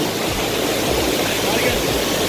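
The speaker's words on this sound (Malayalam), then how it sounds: "അതാണ് വെള്ളച്ചാട്ടം" Waterfall at Thenmala roaring with a loud, steady broadband rush of falling water, close and continuous throughout, with no speech over it.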